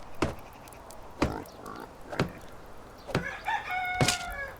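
Rooster crowing in the medieval farming game Medieval Dynasty: several repeated crows and clucks spaced about a second apart, fairly clear against a quiet outdoor ambience.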